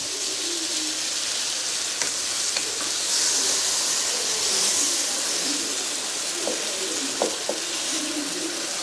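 Capsicum frying in a hot pan with a splash of water added, a continuous bright hiss and sizzle with a few soft clinks of utensils, close and fairly loud.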